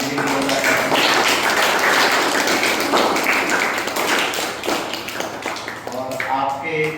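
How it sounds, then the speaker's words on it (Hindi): An audience at an Uttarakhand Divas school celebration claps in a dense, sustained burst of applause that tapers slightly toward the end, with voices mixed in. "इनके लिए जोरदार तालियां।"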